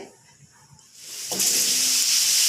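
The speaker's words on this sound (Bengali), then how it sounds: "এবার আমি কড়াইয়ে আলু আর পটলটা দিচ্ছি।" Potato and pointed gourd go into hot oil in a kadai, and after a quiet start the pan bursts into a loud, steady hiss and sizzle that keeps building and holds to the end.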